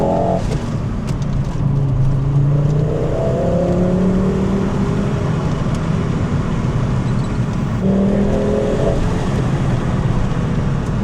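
Volvo 850 GLT turbo engine pulling up through the revs, a steady close drone with rising harmonics that climb, drop at a shift and climb again over constant road noise, no one talking.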